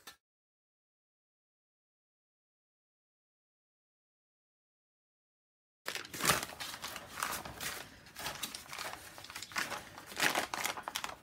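Paper being torn up for a junk journal after a long silence: close, steady ripping and crinkling that continues for several seconds at moderate volume.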